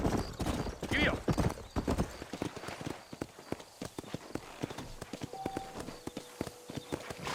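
Horse hooves clip-clop at an easy, steady pace on a trail in the Red Dead Redemption video game, with close, rhythmic hoofbeats and a voice briefly talking over them.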